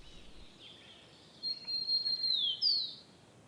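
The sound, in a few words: common kingfisher calling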